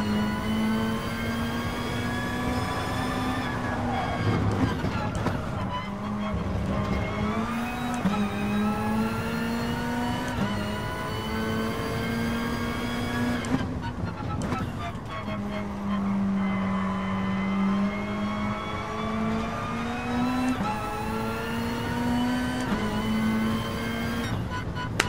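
A race car engine in Gran Turismo Sport revs and accelerates through repeated rising pitch sweeps, dipping with each gear change and climbing again, loud and continuous for the whole stretch.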